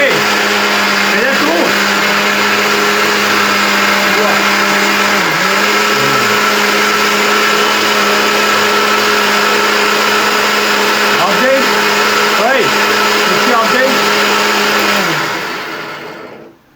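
A kitchen mixer grinder whirs loudly and continuously at close range, its steady motor drone dipping briefly where the speed setting changes, then winding down at the end, with voices speaking over it.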